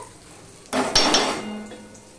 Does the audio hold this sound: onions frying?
yes